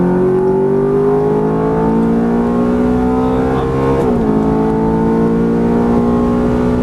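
A Ferrari F430 on a race track at Las Vegas accelerates hard, its engine loud and close with a steadily rising whine, a brief gear change dip midway, then climbing again.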